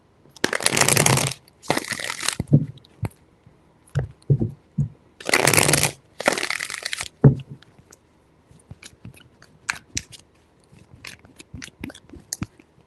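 Tarot cards are shuffled in three distinct bursts of crisp riffling, with scattered taps and soft handling clicks between them, close to the listener.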